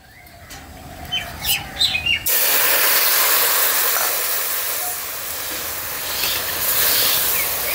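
Milk poured into semolina frying in a pan for a soft pitha sets off a sudden, loud, steady sizzling hiss that lasts to the end, after a quieter stretch of faint clinks.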